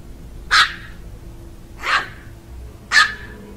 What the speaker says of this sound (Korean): 개들이 바로 제 뒤를 향해 짖고 있었습니다.